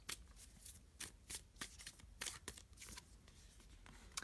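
A deck of affirmation cards for work is shuffled by hand, giving a run of crisp, close riffling bursts that repeat in an uneven rhythm with no talking.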